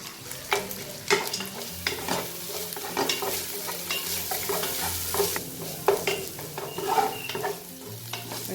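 Ginger garlic paste with cashews and raisins sautéing in a hot pan gives a steady close sizzle, broken by repeated scraping stirs and occasional louder spoon knocks, with no talking.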